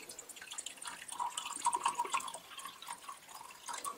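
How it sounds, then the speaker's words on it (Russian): Water being poured into a glass while preparing a plant feed, a soft steady trickle and splash throughout, fairly faint and without talk. "Для этого я беру водичку. Наливаю стакан."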